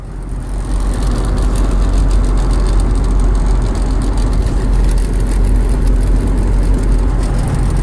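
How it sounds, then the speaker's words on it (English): Steady loud low rumble and drone inside a 4x4 truck cruising at about 65 mph, with drivetrain vibration from a suspected bad universal joint and a faint buzzy rattle of loose coins running continuously throughout. "right now I'm doing about 65 and you can hear the vibration"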